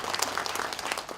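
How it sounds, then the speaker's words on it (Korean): Brief burst of audience clapping at a community self-governance meeting, many hands patting in a quick, uneven flurry for about a second. "김일식 단장님께 다시 한번 큰 박수 부탁드립니다"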